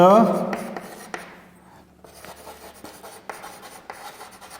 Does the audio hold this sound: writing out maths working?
yes